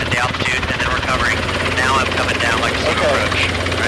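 A Robinson R22 helicopter on a slow descending approach gives a steady, loud rotor and engine drone with rhythmic blade chop, heard from inside the cabin while a person talks over it.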